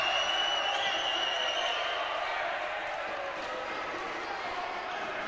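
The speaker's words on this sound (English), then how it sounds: "The Bish crowd making themselves heard here" Small school crowd for St Joseph's (The Bish) cheering and shouting at an under-16 boys' basketball final, a steady loud roar with faint whistle-like tones throughout.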